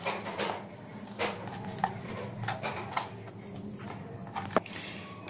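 A knife chops raw banana on a board: a dozen or so sharp, uneven close knocks spread over several seconds, with soft handling noise between strikes.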